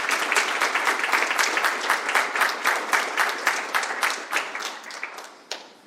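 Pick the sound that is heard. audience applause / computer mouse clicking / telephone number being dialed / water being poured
audience applause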